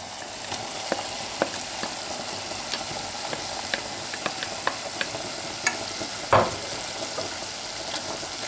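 Onion and garlic fry in a pan over lowered heat while cooking a bean stew, giving a steady close sizzle with faint pops and crackles throughout, no voices.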